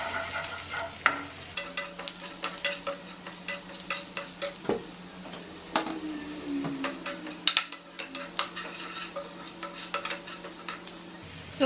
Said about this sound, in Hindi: तो ये जो हमारी प्याज है ये फ्राई हो गई है।